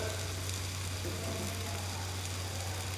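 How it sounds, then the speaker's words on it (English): Rice and lentils in a pot of water at a boil, settling into a simmer, with a steady close bubbling sizzle over a low constant hum. "This is up to a boil. It's going to simmer."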